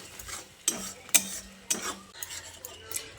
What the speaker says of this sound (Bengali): এবার গুঁড়ো মশলাটা দিয়ে মশলার সঙ্গে আবারও ভালো করে মিশিয়ে নিচ্ছি